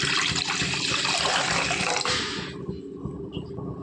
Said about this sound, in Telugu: ఇప్పుడు ఈ కళాయిలో వాటర్ అయితే యాడ్ చేసుకుందాము.